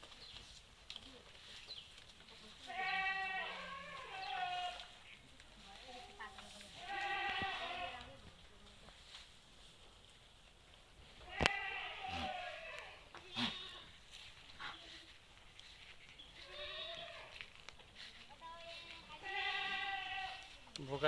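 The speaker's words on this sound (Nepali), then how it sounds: "बोकाहरू भित्र कराइराखेका" Male goats bleat repeatedly inside a shed on a Nepali goat farm, several loud wavering calls in bursts, with sharp knocks and clatter between them and faint other animal noise in the background.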